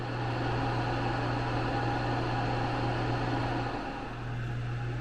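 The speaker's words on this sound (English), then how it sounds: "it actually paused the dehydrator, so we didn't know, so we started it back up" A food dehydrator drying chili peppers runs with a steady, quiet mechanical hum and fan-like whir, holding constant with a slight dip near the end.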